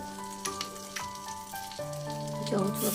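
Prawn legs frying in mustard oil in a pan, a crackling sizzle with sharp pops and clinks over a steady hiss, close and moderately quiet.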